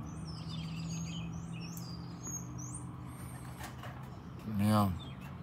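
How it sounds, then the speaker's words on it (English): Young birds about two months old chirp in short high tweets early on, soft and somewhat distant over a low background hum, with a brief rumble near the end. "So these birds are like 2 months old."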